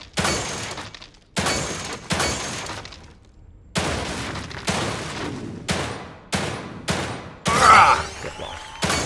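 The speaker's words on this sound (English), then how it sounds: "Gotta shoot slightly ahead of them" Gunfire from shooting zombies in The Evil Within 2 video game: about nine loud, sharp, separate shots with ringing, decaying tails at irregular intervals, close and prominent, with a brief glassy crash near the end.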